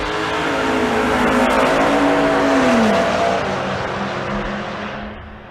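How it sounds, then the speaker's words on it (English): A twin-turbo V12 Mercedes launching down a drag strip at a race event, a loud sustained engine roar that climbs in pitch, holds, then fades as the car pulls away into the distance. "Right lane is Tyler Johnson, that twin-turbo V12 Mercedes."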